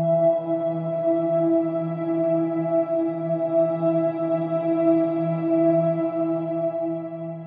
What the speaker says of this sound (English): An ambient guitar drone is a reverberated effect that is done by removing your